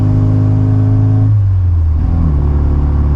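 A classic Mini's engine droning loudly from inside the car while climbing a hill behind a slow truck, the steady note dropping as revs fall for a gear change, then settling into a lower rumble.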